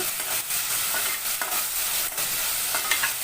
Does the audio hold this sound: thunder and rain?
no